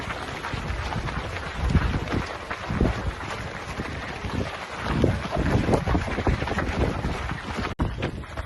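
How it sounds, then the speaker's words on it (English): Strong wind blows beside a lake at a Patagonia running festival, roaring and buffeting against the microphone in steady gusts that fill the whole stretch. "it's windy"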